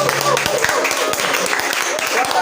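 Church congregation applauding loudly in a continuous, dense wash of clapping, mixed with shouting voices throughout.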